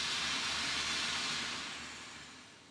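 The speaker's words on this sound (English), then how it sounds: "down under the engine are the boilers that make the steam that powers the engine." Steam hisses from coal-fired boilers beneath the engine of Trencherfield Mill, a cotton mill. The hiss is steady, dense and fairly loud, and it fades slightly toward the end.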